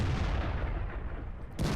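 A tank cannon firing at an IS-6 heavy tank in World of Tanks, a heavy booming report with a long rumbling decay, followed by a second sharp blast near the end.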